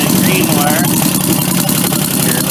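A 1971 Triumph Bonneville motorcycle engine running at a steady idle during charging system work, a loud, close, continuous rumble with someone talking over it.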